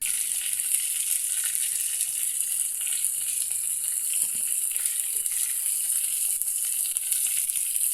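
Chopped onions fry in hot oil for a lady finger curry, giving a steady, even hiss of sizzling throughout, with a few faint clinks in the background.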